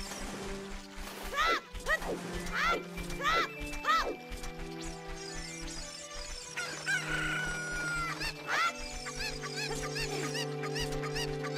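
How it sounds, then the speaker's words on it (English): Chicken in The Legend of Zelda: Ocarina of Time 3D squawking and clucking in a rapid series of sharp calls over game music, with some louder crowing bursts near the end. "Why is it not picking the chicken up?"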